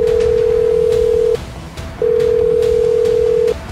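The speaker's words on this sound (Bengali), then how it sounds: "ফোন ধরে না কেন?" An unanswered phone call ringing back, two long steady electronic tones separated by a short pause, loud and close with no talking.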